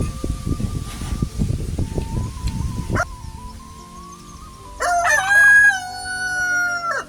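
A rooster crows loudly and close by near the end, preceded by scratchy rustling and a long sustained tone, with no talking.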